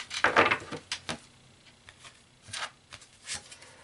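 Tarot cards handled and shuffled during a general reading: a few separate papery riffles and slides, close and soft, with quiet gaps between bursts and no speech.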